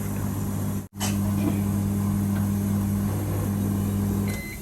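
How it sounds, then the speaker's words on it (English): A microwave oven heating a gel mix runs with a steady low hum and faint mechanical drone, briefly cut by a short dropout, then stops near the end. "I popped it in the microwave for 2 minutes."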